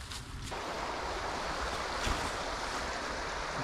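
A small river flows beside a bushcraft shelter in the woods, its cold water making a steady, dense rushing hiss that fills the whole stretch without a break.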